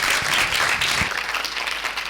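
Applause from a seated audience at a talk session fills the room, a steady dense wash of clapping that stays loud throughout without fading.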